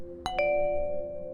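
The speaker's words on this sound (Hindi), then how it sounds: "यह सब चल ही रहा था कि दरवाजे की घंटी बजी।" A home doorbell chimes a clear two-tone ding-dong, close and clean, with the second tone ringing on and slowly fading.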